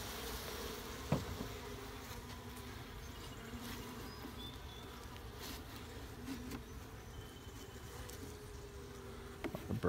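Honey bees buzz steadily and close throughout a hive inspection on Cape Cod, a dense continuous hum with a few brief knocks and handling noises and no talk.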